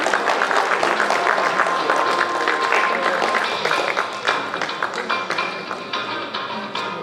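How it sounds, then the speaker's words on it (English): Audience applause at a Christmas celebration as dignitaries are felicitated, a steady dense patter of many hands clapping throughout, close and continuous, thinning slightly toward the end. "Let us give them a big round of applause"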